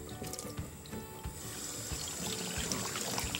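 Squid being rinsed under a running kitchen tap, a steady close splashing stream of water with small irregular spatters and drips, moderately quiet and continuous, with no voices.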